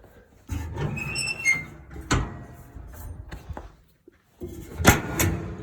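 The heavy metal door of a wood-fired BBQ smoker clanks and bangs shut, with a few rattling knocks and scrapes leading up to it, then a louder final clang.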